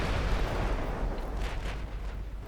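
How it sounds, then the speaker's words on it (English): Torpedoes strike a warship in the naval game Ultimate Admiral Dreadnoughts, producing a dense, rumbling explosive roar that stays loud and sustained with no clear gaps. "So 3 torpedo hits out of that."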